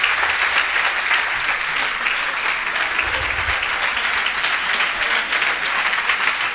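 Sustained audience applause fills a theatre at a stage performance ceremony, dense and even clapping from a large crowd held steadily without pause.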